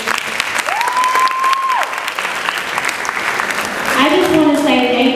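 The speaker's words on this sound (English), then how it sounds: "can we please give another round of applause for our president" Applause from an audience at a 2016 student government association State of the SGA address, a steady wash of clapping that swells louder near the end, with a tonal whistle or feedback tone briefly rising above it.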